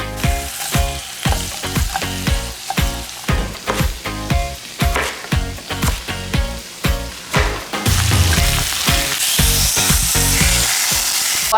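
Vegetables roasting and sizzling in a HexClad pan, loud close frying hiss with rhythmic bursts as they are stirred, turning into a steady, brighter sizzle toward the end, with no voices.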